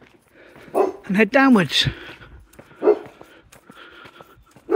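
A dog gives a short burst of barks and whimpering yips close by outdoors on a suburban road, with a person talking over and around it.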